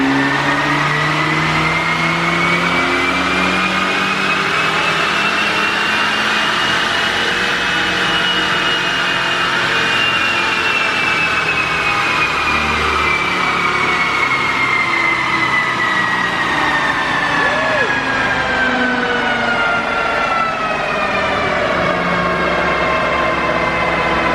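An Audi S3 on an all-wheel-drive dyno pulls through a long, steady full-throttle run, the engine note climbing smoothly and loudly for over twenty seconds with a constant roar of rollers and wind underneath.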